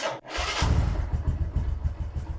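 A Bajaj Boxer 125 motorcycle, fresh from an oil change, fires up after a brief click and settles into a close, pulsing single-cylinder idle thump for about two seconds.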